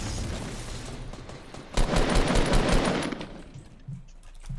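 Rapid automatic gunfire in Fortnite Battle Royale, a dense sustained burst erupting mid-clip and loud for over a second before tapering to scattered shots.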